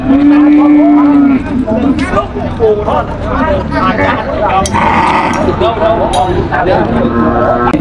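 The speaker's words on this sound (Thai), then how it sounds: "วัวเยอะมากวันนี้" Cattle lowing at a busy livestock market, one long loud moo at the start followed by more moos amid crowd chatter and people talking nearby.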